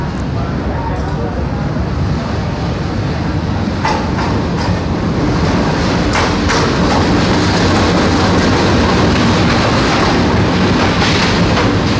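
A Malabar passenger train's business-class car rumbles loudly and continuously, with a steady rolling roar and a few sharp clicks and knocks from the running gear.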